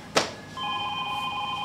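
A phone rings on an outgoing call: after a single sharp knock, a steady electronic ringback tone starts and holds, moderately loud and clean, with no talk over it.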